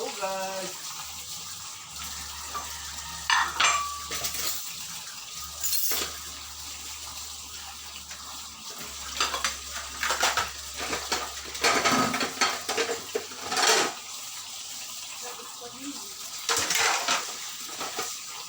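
Dishes, pots and cutlery clink and clatter under a running tap at a kitchen sink, with water streaming in on-off stretches and occasional louder knocks throughout.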